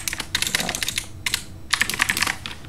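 Fast bursts of typing on a computer keyboard, close and clear, with a brief pause between runs of keystrokes.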